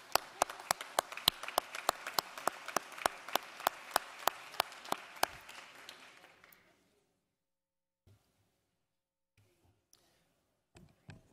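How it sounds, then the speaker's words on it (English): A handful of people in the Senate chamber clap for a guest, about six seconds of crisp, evenly spaced, fairly close claps that stop abruptly, followed by near silence with a few scattered faint knocks. "Let's give him a round of applause."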